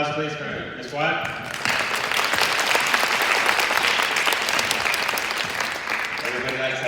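An audience applauds at a technology conference, a dense, steady clapping that swells in after a brief spoken lead-in and fills the room, with voices faintly under it near the start and end.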